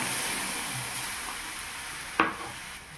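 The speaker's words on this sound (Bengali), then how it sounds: "কড়াইয়ের মধ্যে দিয়ে দিলাম পাকা আমের পেস্টটা" Ripe mango paste sizzling in a kadai as it is stirred, a soft steady hiss broken by one sharp utensil clack against the pan.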